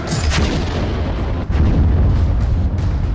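Israeli air strikes in Lebanon, heard as a continuous loud rumble of heavy blasts with deep low-frequency roar throughout, a brief dip midway before the booming resumes, no voices.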